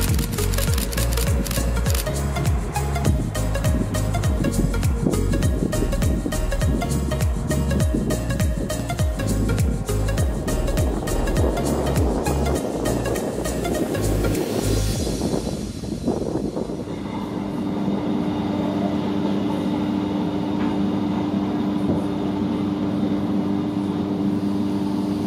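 A DB class 628 diesel railcar runs on the Weschnitztalbahn in the Odenwald, its engine droning loudly with rhythmic wheel clatter over rail joints, then easing into a steadier, quieter hum as it slows.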